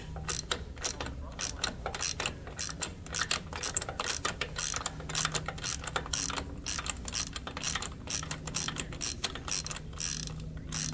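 Kick-starting a long-dormant Honda ATC 200X with the spark plug removed and oil in the cylinder: a steady series of dry mechanical ratcheting clacks and whirs, close and fairly loud, with no engine firing.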